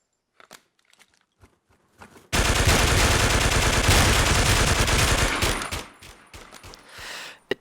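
A P90 fires a sustained automatic burst in the video game Warmode, a dense, loud rattle lasting a few seconds before tapering off, with scattered clicks and faint game sounds around it.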